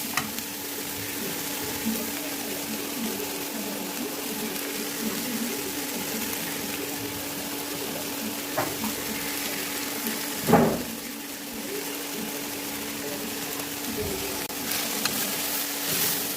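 Vegetables for Darjeeling-style thukpa frying in a pan: a steady, close sizzle and hiss runs throughout, with a few clatters of stirring and one louder knock partway.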